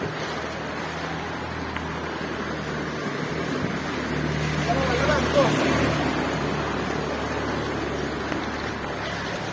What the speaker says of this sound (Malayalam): വണ്ടിയൊക്കെ പോകുന്നുണ്ട്.